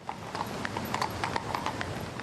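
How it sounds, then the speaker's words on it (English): Horses' hooves clop steadily on the cobbled streets of Edinburgh during a quiet royal funeral cortege, an even, moderately distant rhythm of hoof strikes against a hushed background. "Crowds so quiet you could hear the hooves of horses on the cobbled streets of Scotland's capital"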